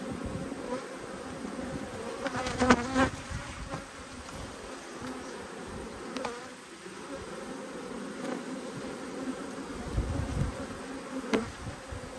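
Honey bees buzzing steadily around an open backyard hive during an inspection, a dense close hum with individual bees zipping past, plus occasional soft knocks and clicks of frames being handled.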